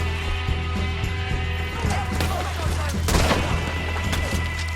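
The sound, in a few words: gunfire in the video game Red Dead Redemption 2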